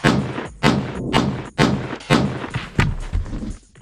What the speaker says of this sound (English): That one was from the cold barrel.